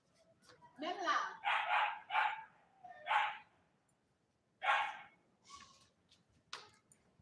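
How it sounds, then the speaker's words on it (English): Several dogs bark in loud, close bursts: a cluster of rapid barks, a short pause, then scattered single barks and a final yelp. "The dogs are just like wilding out."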